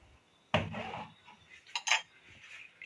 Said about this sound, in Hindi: और इनको अच्छी तरह से मिक्स कर लेते हैं।